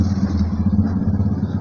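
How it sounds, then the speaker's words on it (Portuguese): A motorcycle passes along a city street close by, its engine a steady loud rumble throughout the short moment. "Passar essa voadinha da moto aí"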